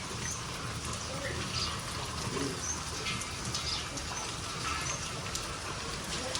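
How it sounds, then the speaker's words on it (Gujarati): Cold rain falling outdoors in a village makes a steady, even hiss of drops on surfaces, moderately faint, with a few distant bird calls. "હા ઠંડો વરસાદ પડે"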